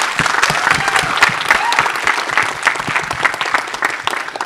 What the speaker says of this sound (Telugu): she needs a big round of applause